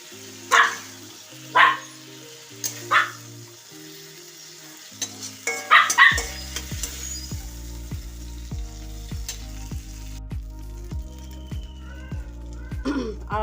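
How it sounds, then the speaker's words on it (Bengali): Prawns fry lightly in oil in a pan, with a soft continuous sizzle heard under loud background music and a few sharp bursts. "তো চিংড়ি মাছগুলোকে একটু হালকা করে ভেজে নিচ্ছি।"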